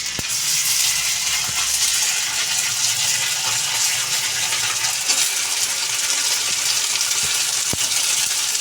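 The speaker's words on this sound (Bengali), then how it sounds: "পেঁয়াজটা লাল লাল হয়ে গেছে এই যে এবারে আদা রসুন বাটাটা" Ginger garlic paste hitting browned onions frying in oil for an egg curry, giving a steady, loud, close sizzle with faint stirring scrapes throughout.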